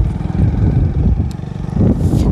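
Motorbike riding along a village road on the way to the village pond, its engine a steady close drone with wind buffeting the microphone, no talking.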